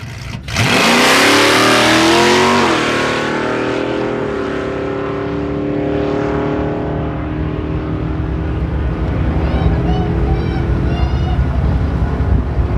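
A 2001 silver Ford Mustang and a 1969 Cougar launch off the line at a drag race, engines roaring loud and close before fading into a sustained distant drone down the strip.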